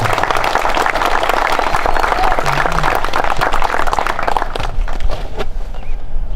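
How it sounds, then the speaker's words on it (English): Crowd applause for the Village Band at the opening ceremony of the 198th Lewis County Fair, a dense close burst of many hands clapping that carries on for several seconds, then thins out and fades. "So let's give a round of applause to the Village Band"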